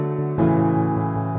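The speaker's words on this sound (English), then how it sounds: "the piano sounds like this" A sustained synth piano chord rings out, its tone suddenly brightening partway through as the filter opens, loud and steady with no voices.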